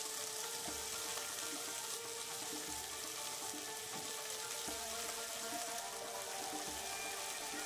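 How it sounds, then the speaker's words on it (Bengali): Onion and diced tomato frying together in a pan, a steady, soft sizzle running throughout with faint scraping and stirring clinks, no voices. "সেই পেঁয়াজটা ভেজে নেব।"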